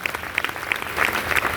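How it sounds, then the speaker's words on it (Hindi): Applause from an audience at a motivational talk, a steady spread of clapping with a few sharper claps standing out, moderately loud throughout. "उनके लिए जोरदार तालियां।"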